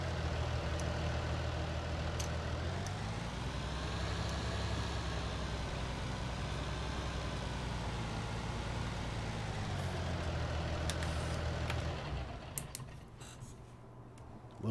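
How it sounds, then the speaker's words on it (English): A tractor engine in a farming game runs at a steady idle with a low droning rumble, rising slightly then settling back before the sound cuts off near the end, with no voices. "So I'm just going to park this tractor"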